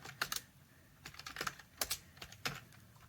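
Computer keyboard typed in short irregular bursts of crisp key clicks with brief pauses between, close and quiet in a calm room.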